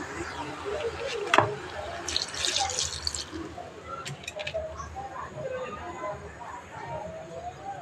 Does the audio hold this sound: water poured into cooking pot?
yes